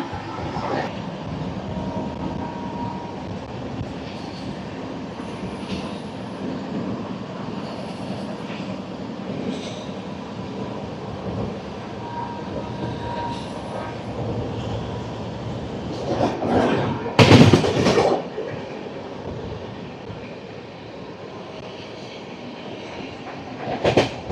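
The Garib Rath Express, a Visakhapatnam–Secunderabad train, runs at speed with a steady rumbling roar and rattling heard from on board, and a brief louder clattering burst partway through.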